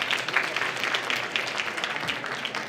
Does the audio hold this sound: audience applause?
yes